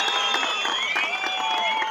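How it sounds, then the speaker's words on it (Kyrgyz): A crowd applauds at the opening of an eagle-free wrestling event in Kok-Jar, Nookat district, a dense, steady patter of clapping that holds throughout, mixed with shrill whistling tones. "Бир катуу кол чаап поддержка бериңиздер."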